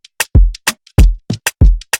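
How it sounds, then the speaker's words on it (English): Conga-like hand percussion playing a punchy beat, with deep booming low hits alternating with short bright slaps in a steady groove, loud and alone. "And the next thing was just this percussion like a conga."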